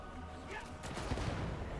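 Sniper gunfire rings out in the video game Darktide 40K, a burst of sharp shots clustered in the middle over a low, busy game backdrop.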